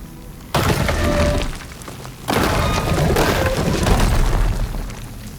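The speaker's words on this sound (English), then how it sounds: "Should be able to clear that rubble with my bowcaster." In Horizon Forbidden West, a rubble pile is blasted apart by a bowcaster shot, two loud close bursts of crashing, shattering debris with crumbling rock and gravel rattling down afterward.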